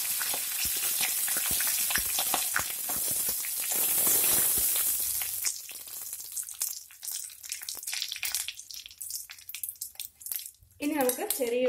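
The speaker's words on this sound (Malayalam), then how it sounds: "കറിവേപ്പില ഇടാം." Curry leaves hit hot oil in a pan already holding split dried chillies, with a loud broadband sizzle that crackles hard at first, then eases into sparser spits and pops over a lower flame.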